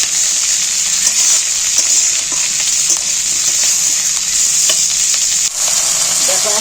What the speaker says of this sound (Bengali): পেঁয়াজগুলোকেও আমি একটু ভালো করে ভেজে নেবো